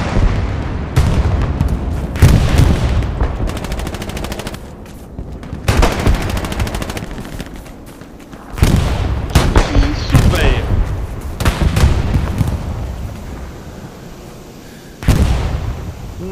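Gunfire in the World War II shooter Hell Let Loose during a competitive match, with repeated loud bursts and booming shots in clusters, some rapid automatic fire, and faint voices underneath.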